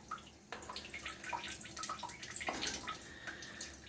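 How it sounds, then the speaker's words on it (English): Water runs and trickles inside a home furnace humidifier, a steady wash of splashing and dripping with small bright drips scattered throughout, moderately close. "So you see the water is still running in that humidifier."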